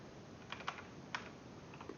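Soft, quick keystrokes on a computer keyboard tap out a few scattered clicks, close and faint, with no voices.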